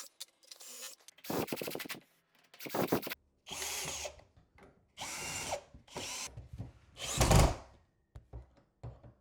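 Cordless drill driving screws into a workbench splashback bracket in short repeated bursts, roughly eight whirring runs separated by brief pauses, close and fairly loud.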